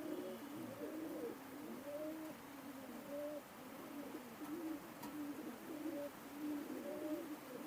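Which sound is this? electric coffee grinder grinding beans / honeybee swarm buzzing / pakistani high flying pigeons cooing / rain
pakistani high flying pigeons cooing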